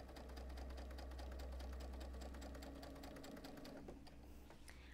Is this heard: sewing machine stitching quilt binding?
yes